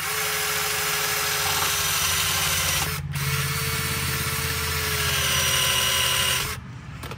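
A wire brush spins on a drill against rusty rear brake parts of a 2010–2017 Hyundai Tucson, a steady close motor whine and scraping drone that dips briefly once, then cuts off near the end.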